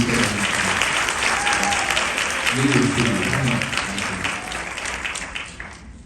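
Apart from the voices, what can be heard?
audience applause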